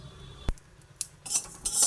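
Whole spices with dried red chillies, panch phoron and coriander seeds dry-roasting in a kadai, with a sharp utensil knock and then bursts of scraping and rattling as a spoon stirs the seeds, close and moderately loud.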